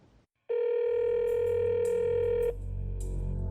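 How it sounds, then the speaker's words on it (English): A telephone call is placed: a steady, loud dial tone sounds alone for about two seconds, then cuts off into a lower hum and faint clicks as the line connects. "Let's dial him up."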